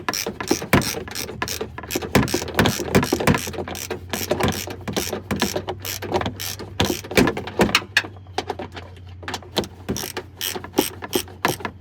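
A ratchet works a long structural bolt out of an old Town and Country van, loud rapid pawl clicking that continues nonstop and close up, with a low steady hum underneath.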